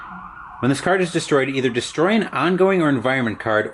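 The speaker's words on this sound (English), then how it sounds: "Pardon the siren." An emergency vehicle siren wails faintly in the background, half-buried under steady close talking that runs through nearly the whole stretch.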